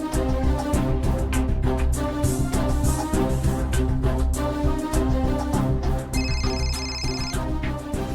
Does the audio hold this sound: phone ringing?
yes